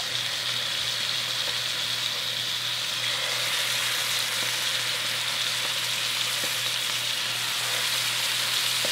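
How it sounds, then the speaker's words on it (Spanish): Chicken pieces frying in a spoonful of oil in a pan over medium heat give a steady, close sizzle that holds evenly throughout, with faint crackles and the odd clink now and then. "Y vamos a ir colocando nuestro pollo. Y lo vamos a dejar cocinar unos 4 a 5 minutos."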